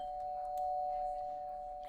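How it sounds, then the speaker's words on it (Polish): Doorbell in Roblox Brookhaven giving a steady sustained electronic tone that holds for the full stretch, fairly loud with faint background noise. "Dzwoni do drzwi."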